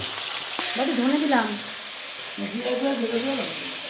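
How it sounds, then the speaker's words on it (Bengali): Poa fish fry in oil with a steady hiss and sizzle running throughout. A voice talks over the frying twice. "অল্প অল্প করে দিয়ে আস্তে আস্তে সবকটা মাছ পরপর ভেজে নেব"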